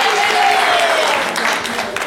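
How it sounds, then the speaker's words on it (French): Loud, steady applause from an audience at a literary prize event, dense clapping that fills the room throughout, with a voice faintly audible over it. "On peut l'applaudir très très fort"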